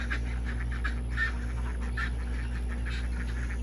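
Ducklings and adult ducks calling with soft, rapid quacks and honks in short bursts, fairly faint and steady against a constant low hum, with no voices.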